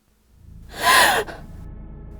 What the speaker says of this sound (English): Twilight awoke with a gasp.